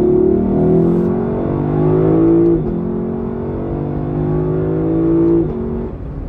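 A Lexus engine revs repeatedly, heard from inside the quiet cabin, with the revs climbing and dropping in a few pulls over several seconds.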